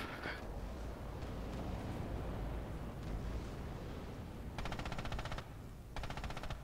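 Rifle and SMG fire rattles in a multiplayer shooter match, faint and distant at first, then rapid automatic bursts near the end with no talking.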